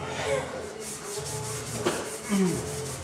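Sandpaper on a squishy foam pad rubbed back and forth over a surface, giving a steady, close scratchy rubbing that swells in a few strokes, with faint background sounds.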